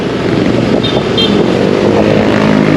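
Steady road traffic noise of vehicles passing on a highway in Bulacan after a typhoon, a continuous loud engine and tire rumble close by with no talk.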